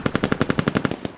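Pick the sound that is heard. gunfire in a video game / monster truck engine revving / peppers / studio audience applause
gunfire in a video game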